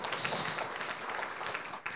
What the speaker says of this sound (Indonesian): Boleh tepuk tangan bagi Roh Kudus